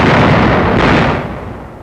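Artillery fire from gun emplacements on an island near Tokashiki during the Battle of Okinawa comes as a loud, dense roar of blasts that fades after about a second.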